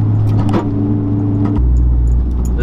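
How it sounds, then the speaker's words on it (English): A Mazdaspeed3 rolling along a very bumpy back road gives a loud, steady engine and road drone inside the cabin, with the engine note dropping partway through and faint rattles jangling over the bumps. "we're on this really, really, really bumpy like back road right now, and it's handling it just fine"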